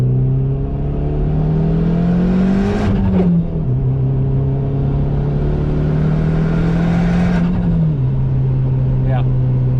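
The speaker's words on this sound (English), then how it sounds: "Yeah, misfire. That was third gear." 2006-era car on a new ECU accelerating hard in third gear with a misfire; loud close engine drone rising in pitch, with two sharp upshift drops and stuttering surges, talking under it.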